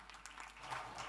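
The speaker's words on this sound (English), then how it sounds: "Another round of applause, ladies and gentlemen, for this absolutely lovely, wonderful session for this evening." Brief, fairly faint audience clapping at the close of an evening talk session with musical accompaniment, a light scattered patter lasting about a second.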